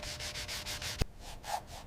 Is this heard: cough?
no